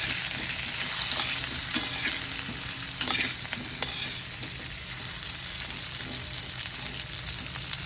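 Stuffed bitter gourd (karela) being stir-fried in a kadai, with a steady loud sizzle of oil and occasional spatula scrapes and clinks, close up and without speech.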